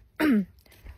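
A single short, dry cough, close and fairly loud, followed by quiet room noise.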